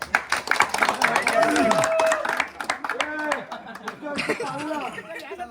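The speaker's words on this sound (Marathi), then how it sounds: "एकदा अनिकेतसाठी टाळ्या झाल्या पाहिजे." A crowd at a night cricket event claps for a player named Aniket, scattered applause mixed with loud chatter and overlapping voices throughout.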